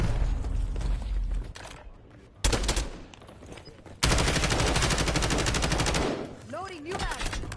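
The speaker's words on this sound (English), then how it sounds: "I'm taking fire." Video game gunfire, loud rapid bursts of automatic shots with a brief pause, then a long sustained stream of close firing before it trails off.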